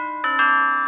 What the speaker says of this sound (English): Is that the doorbell?